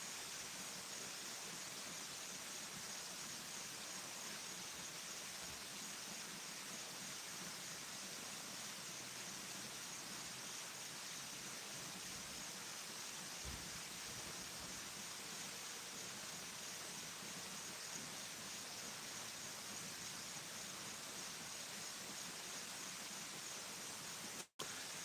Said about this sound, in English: And can certainly hear the crickets and the waterfalls now.